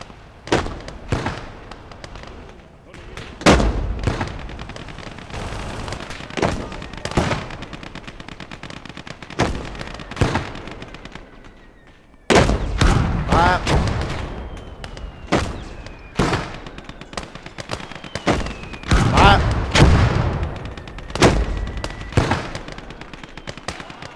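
Field gun and other weapons firing in the World War II strategy game Call to Arms: Gates of Hell, a rapid series of loud, sharp booms and cracks with rumbling tails, some shots overlapping in dense bursts.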